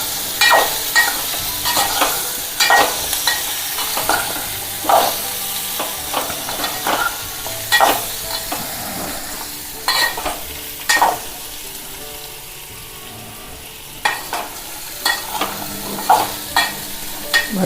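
Potato pieces frying in oil with turmeric, green chillies and curry leaves get stirred in a pan, a steady sizzle broken by repeated scraping clatters of the spoon at an irregular pace, close and fairly loud.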